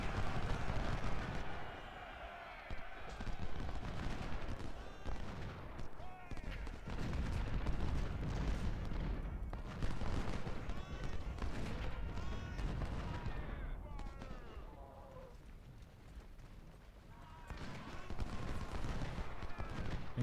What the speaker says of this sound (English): Engaging our artillery is always hit or miss because, you know, they unleash the canister shot on you